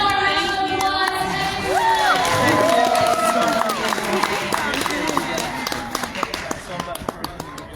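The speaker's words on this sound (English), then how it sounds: "One more round of applause." A convention crowd at GalaxyCon cheers and shouts after a celebrity Q&A panel, with loud overlapping voices. Sharper individual claps pick up toward the end.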